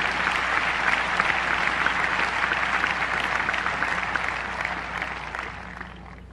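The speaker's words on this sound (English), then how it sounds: "So one more round of applause for you, Tony." An audience at a tennis Hall of Fame induction ceremony applauds in a dense, sustained wash of clapping that holds steady and fades slightly toward the end.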